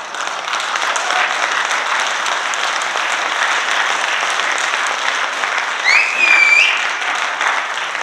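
Applause from an audience at a motivational event, dense and steady throughout, with a brief whistle-like tone rising near the end.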